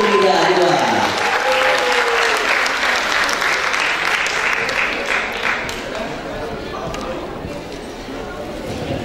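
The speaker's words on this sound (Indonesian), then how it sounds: "Kita beri tepuk tangan yang paling meriah untuk Bapak Hendri Winoto" Loud, sustained applause from an audience at a pre-launch event at Ukrida, greeting the university's director of public relations and administration; dense clapping fills the full nine seconds and eases slightly toward the end, with faint voices mixed in.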